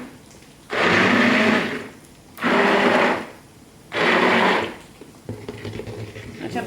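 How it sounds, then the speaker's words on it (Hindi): A hand blender whirs through a pot of haleem made with lentils and rice in three loud bursts of about a second and a half each, separated by short pauses, followed by quieter kitchen sounds. "चावलों को मैं पहले ब्लेंड कर चुकी हूँ इस हैंड ब्लेंडर से। अब बिल्कुल थोड़ा सा आपने ब्लेंड करना है इसको।"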